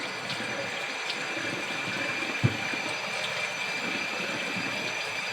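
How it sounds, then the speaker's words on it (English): Hot tap water runs steadily over a transmission filter part during rinsing, a continuous close hiss of flowing water with one brief knock. "Rinse it off with some good hot water."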